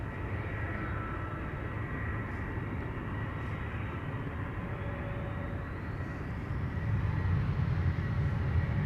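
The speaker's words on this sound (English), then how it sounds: "Embraer 175 is pulling up." Embraer 175 regional airliner taxiing at Amsterdam Schiphol, a soft, distant engine hum and rumble that holds steady, then grows slightly louder toward the end as the jet pulls closer, with no voices.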